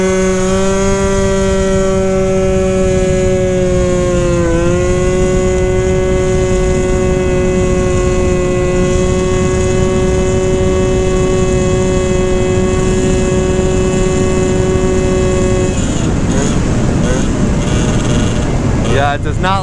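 A 120cc stroker Honda Elite scooter engine screams at wide open throttle, a loud, sustained high-pitched buzzing drone that holds steady with a brief dip before wind and road rush grows near the end.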